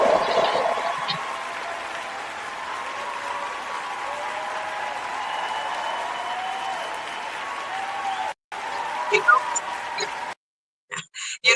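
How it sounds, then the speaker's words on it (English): Studio audience applauding after a podcast segment, a steady wash of clapping that carries on for most of the stretch before breaking off briefly and fading out in short bursts. "Let's do a hand clap on that segment"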